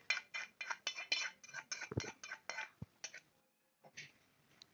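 A spoon mixing homemade lemon pickle with chili powder and tempering in a container: about a dozen quick, close scraping clinks in a steady rhythm, then a short pause and a few softer stirs.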